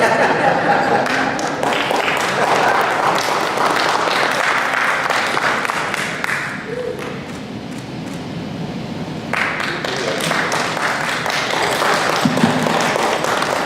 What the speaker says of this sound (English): I think we need to give all of our young ladies a round of applause and a standing ovation.